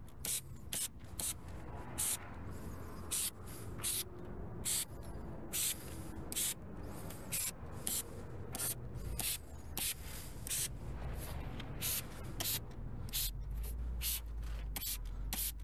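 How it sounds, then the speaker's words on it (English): A car engine bay being sprayed down during detailing: a steady run of short, sharp spray bursts hisses in quick, uneven rhythm, close and fairly quiet, with no talking. "Spray it down."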